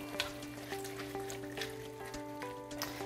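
Gumbo with fire-roasted diced tomatoes just added sizzles faintly as it is stirred, a soft crackling hiss over a steady low hum, with light irregular pops throughout.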